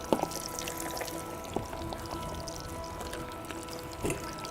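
Chicken pieces frying in hot oil in a wok, a steady dense crackle and sizzle running throughout with a few sharper pops, close and fairly loud with no talk.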